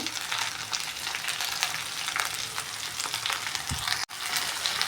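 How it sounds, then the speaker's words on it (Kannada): Okra (lady's finger) fries in a pan with a spoonful of lemon juice, producing a continuous close, bright sizzle with soft stirring that cuts out briefly just before the end. "ಚೆನ್ನಾಗಿ ಫ್ರೈ ಆಗುತ್ತೆ ಇದನ್ನು ಸ್ವಲ್ಪ ಫ್ರೈ ಮಾಡ್ಕೊಳ್ಳೋಣ"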